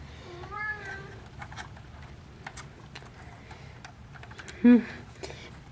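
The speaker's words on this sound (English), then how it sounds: "my cat is trying to get onto the table" A house cat meows near a table indoors, with one drawn-out meow early and a louder, brief one later, over light tapping and clicking sounds.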